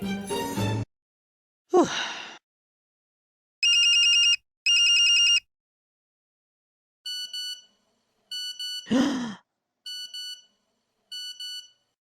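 A phone ringtone chirps in short repeated electronic bursts, two longer rings then four shorter ones, with brief breaths or sighs and movement noises between them.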